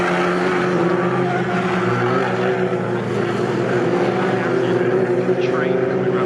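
Junior Saloon Car Championship race cars lapping Snetterton in a close five-car train, a continuous droning engine roar held steady throughout while a commentator talks over it.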